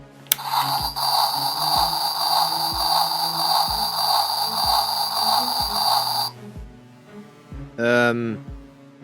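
A short click as a key goes into the chest slot of a 2005 Transformers Cybertron Vector Prime toy, followed by a steady electronic whirring hum with rhythmic mechanical ticks, ending in a brief warbling tone.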